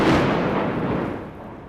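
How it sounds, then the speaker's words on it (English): Heavy artillery shelling in Bakhmut, a single deep boom with a rumbling roll that slowly decays over under two seconds, loud and close. "This is Bakhmut under heavy shelling."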